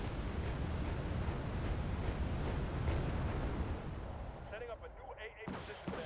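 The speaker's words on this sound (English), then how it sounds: "Okay, so they're firing rockets at me." Rockets fired in Wargame: Red Dragon, with M60 tanks on the field, a heavy rumbling barrage of launches and blasts that stays loud and continuous before thinning into scattered, fainter impacts near the end.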